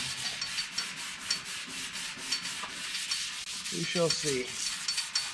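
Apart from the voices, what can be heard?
scuffing C10 truck surface by hand before Raptor liner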